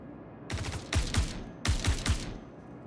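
Enemies open fire on the player in Star Citizen, several sharp bursts of gunshots, each a quick cluster of three or so cracks with booming low ends, arriving in two separated volleys before fading.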